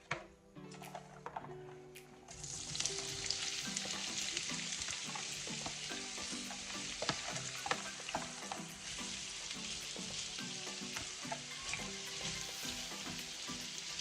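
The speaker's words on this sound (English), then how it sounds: "So now I am going to fry up my seasoning" Seasoning fries in a hot pan, a dense, steady sizzle rising after a short quieter start, broken by light stirring clicks and scrapes throughout.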